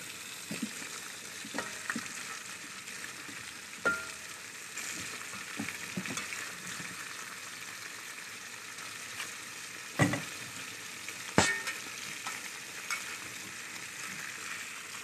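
Fish frying in hot oil on a boat, a faint steady sizzle with scattered clinks and pops.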